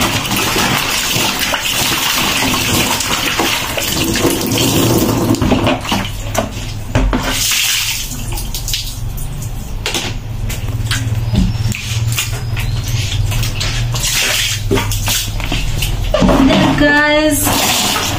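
Water splashes and patters steadily during a shower in a village bathroom in Africa. It is loud and continuous, with a voice talking over it at times.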